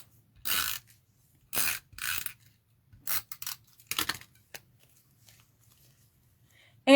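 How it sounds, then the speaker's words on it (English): Paper being torn by hand for a Stampin' Up Christmas card: several short, crisp ripping bursts in an uneven rhythm with brief pauses between them, close and fairly loud, with no talk. "And then we're going to tear this piece."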